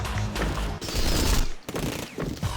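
Assault rifle gunfire in the video game Rengoku, rapid automatic bursts that rattle loudly and continuously with short breaks between strings of shots, close and dense.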